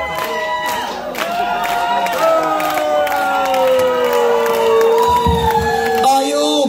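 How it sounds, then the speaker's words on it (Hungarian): A concert crowd at a show in Tamási screaming and cheering loudly and steadily, with shrill high-pitched shrieks and whoops rising and falling across several seconds. "Sikítás!"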